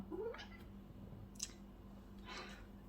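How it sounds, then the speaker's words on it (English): A cat meows a few times in a quiet indoor room. The calls are soft and fairly close, with a faint click between them. "Cat has come to join us."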